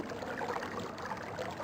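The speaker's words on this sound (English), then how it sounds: "Water." Water sound in the video game Myst: a continuous rushing, bubbling flow, moderately loud and even throughout.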